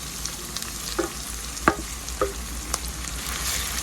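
Ginger garlic paste and almond paste frying in a pan for a raw banana kofta curry, a continuous sizzle broken by a few sharp spatula scrapes and taps, close and clear with no talking.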